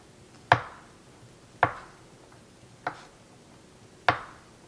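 A knife chops food on a cutting board in four sharp, separate strokes spaced about a second apart, close by and fairly quiet, with no talking.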